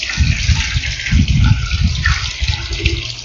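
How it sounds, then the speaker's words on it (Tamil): Water poured into a masala buttermilk mix of ground paste and rock salt, a steady loud gushing splash with uneven surges, close and with no talk. "2 மடங்கு தண்ணி ஊற்றிக்கிறோம்."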